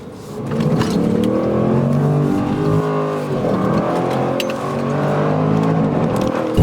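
Range Rover Sport SVR with a large-displacement engine revving from low revs, a deep, rumbling bass tone that rises and falls in steady harmonic sweeps, loud and continuous throughout.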